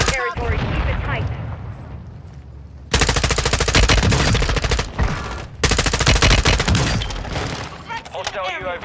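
Automatic gunfire rattles in Resurgence mode of a video game, rapid loud bursts with brief gaps between them, and voices can be heard at the start and end.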